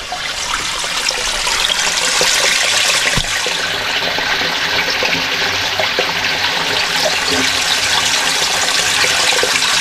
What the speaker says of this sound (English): you can hear the water going down into the big tube and apparently going somewhere